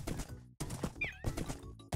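Video game horse audio: hooves clatter in a steady clip-clop rhythm while a short, high whinny rises over them midway, loud and close, with no talking.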